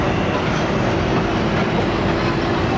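The Ghouri Express passenger train rolls slowly near Shahdara Bagh junction on an evening run from Faisalabad to Lahore, making a steady, close rumble with a faint clatter of wheels.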